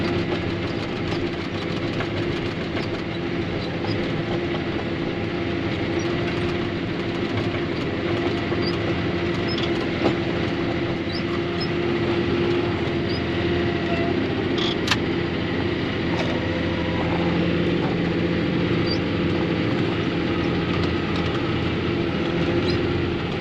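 A cold farm tractor idles steadily at close range during cattle feeding, a continuous low rumbling engine drone with a faint mechanical whine and occasional small clicks and knocks.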